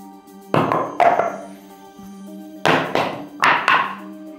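A ceramic body armor plate lands hard on a surface, giving two pairs of sharp, hollow thunks with short ringing decays. The impacts are close and there is no talk.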